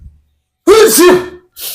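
A single sharp, loud sneeze erupts close by after a moment of silence, followed by a brief breathy sound.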